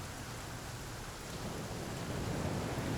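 Heavy rainstorm in the survival game The Flame in the Flood, a steady dense hiss of falling rain that swells slightly toward the end, with no voices.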